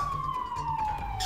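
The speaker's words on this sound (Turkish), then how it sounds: "Ambulans geldi." A siren wails with a steady, slowly falling tone, fairly close, over a low rumble of traffic and faint voices.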